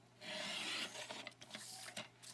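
A trimmer blade slides across a paper sticker card, a short close rasping scrape followed by a few lighter rubbing sounds.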